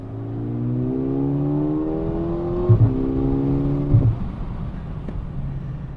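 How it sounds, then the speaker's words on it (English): Low engine burble and rumbling exhaust of a Mercedes-AMG A35 sedan heard from inside the cabin with the window open, pitch rising through the revs and a few soft pops and burps. "you can hear the exhaust isn't really popping, but it's just like making audio vibration, little burps inside here"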